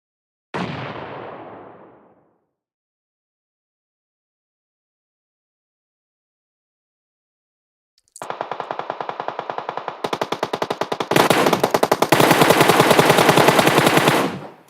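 Rapid automatic gunfire bursts in a competitive Clash of Clans–style esports shooter match, opening with a single loud blast decaying into silence, then sustained machine-gun fire building louder and denser toward the end.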